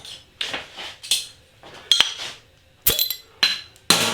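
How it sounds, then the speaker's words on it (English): A beer bottle cap, on a bottle of Crabbie's IPA ginger beer, is pried open in a kitchen: a few sharp metallic clinks and clicks, close and fairly loud, spaced apart amid quiet handling noise. "There's the bottle cap."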